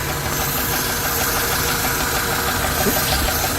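A car engine idles steadily while warming up to operating temperature, giving a continuous, dense mechanical hum with faint knocking texture throughout.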